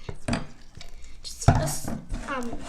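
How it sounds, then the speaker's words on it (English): Homemade slime being mixed in a bowl, giving soft wet squelches and scraping taps in an irregular rhythm, close and moderately loud, with a brief louder clack near the middle. "Just a couple seconds mixing."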